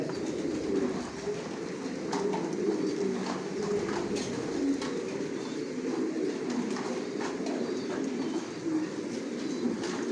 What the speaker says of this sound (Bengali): সব লঙের কবুতর পালি